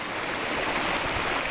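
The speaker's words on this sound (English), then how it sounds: "Looky there, just nice river." A creek in the Tennessee mountains on a winter day flows steadily, a broad, even wash of rushing water with no talk over it.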